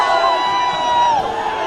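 An angry crowd of hundreds at a protest in Shimla, after breaking through barricades, keeps up a loud, dense roar of shouting voices, with higher cries rising over the steady mass of noise.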